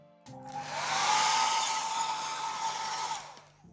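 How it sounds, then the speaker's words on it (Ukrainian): A hair dryer blows close and steady for about three seconds to dry a watercolor painting, switching on and off with a brief click at each end. "А тепер висушуємо."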